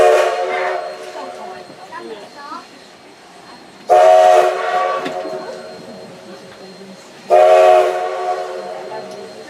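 Steam engine 136 on the South Simcoe Railway sounds three loud whistle blasts, evenly spaced a few seconds apart, each trailing off into a quieter background rumble.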